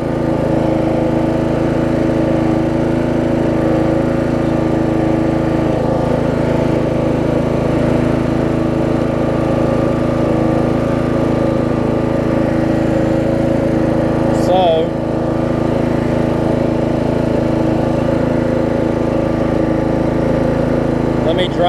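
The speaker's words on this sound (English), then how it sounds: "Drive it into its rightful place for the evening." A Craftsman LT1000 riding mower with a hard-starting engine and a sticky deck engagement drives along. Its engine holds a steady, close, continuous drone with a brief clank partway through.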